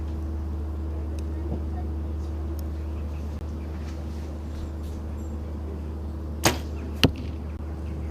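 Compound archery arrows strike a target at an outdoor national tour final; two sharp, brief impact thuds close together near the end, against a steady low background hum, with no talk over them.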